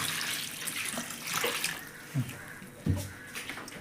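Tap water runs steadily as grapes are washed in a kitchen, a soft continuous hiss with a few low splashes and clunks near the end.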